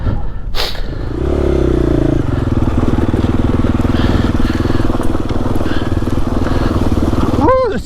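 A 2021 GasGas EX-450F dirt bike engine drones loudly and steadily close by on a steep trail, climbing in pitch as the throttle opens, with a short human whoop near the end.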